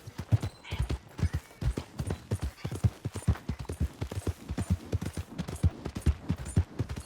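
Horse hooves clip-clop in a steady trotting rhythm in Red Dead Redemption 2, close and continuous, with no voices.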